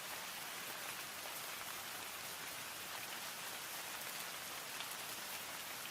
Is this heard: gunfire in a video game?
no